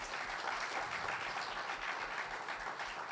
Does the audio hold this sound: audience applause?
yes